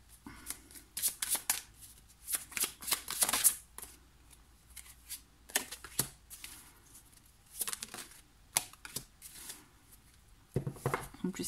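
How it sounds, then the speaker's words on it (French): Playing cards handled and shuffled close up, in quick bursts of riffling flutter and slapping separated by short pauses, fairly quiet and with no talking. "En plus les cartes elles glissent."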